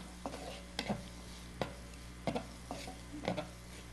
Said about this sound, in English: While that's sauteing, we're going to throw some garlic in here now too.